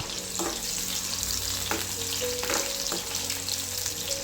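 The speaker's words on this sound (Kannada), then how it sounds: "ಕಟ್ ಮಾಡಿರೋ ಎರಡು ಈರುಳ್ಳಿಯನ್ನು ಹಾಕಿ ಫ್ರೈ ಮಾಡ್ಕೊಳ್ಬೇಕು" Two chopped onions fry in several spoons of oil for a village-style chicken curry, a dense close sizzle with repeated clinks and scrapes of a spoon against the pan, no voices.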